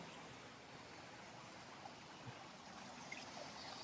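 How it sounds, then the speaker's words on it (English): Water cascading down a water wall feature beside an apartment complex pool, a steady faint outdoor rush and splash of falling water with no talking. "The waterfall here, or water wall, I should call it."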